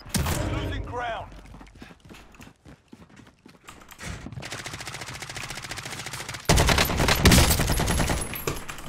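Automatic gunfire and bursts of shots in a tense Call of Duty: Warzone match, dense and loud, rising sharply near the end, mixed with game sounds.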